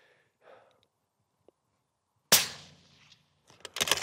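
A single sharp, loud precision rifle shot cracks out from a standing tripod, its blast decaying over about a second. Quieter breathing sounds come before it, and more sharp bursts of noise follow near the end.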